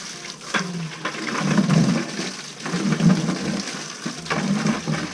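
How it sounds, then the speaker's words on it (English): Water surging through a pump during descaling of a Rinnai tankless water heater, rushing and gurgling in three uneven waves with short lulls between, fairly close and loud, with no voices. "So always flush it out with fresh water."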